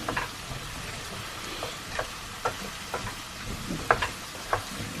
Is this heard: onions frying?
yes